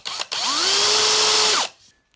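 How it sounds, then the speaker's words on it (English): A power drill boring a channel into a guitar body, whining up to a steady high pitch for about a second and a half, then winding down, loud and close, with a brief spin-up before it. "I'm going to lay me drill on and I'm just going to wallop in there"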